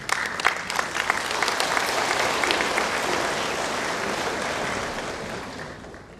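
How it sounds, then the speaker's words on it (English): An audience claps for a doctor at a talk on vegetarian diet and the environment: a brisk burst of applause that starts sharp, holds steady and slowly fades toward the end. "Give him another round of applause, folks."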